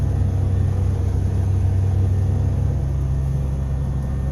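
A car engine idles while warming up, with a steady low rumble and no revving peaks, close and continuous for the whole stretch, no voices.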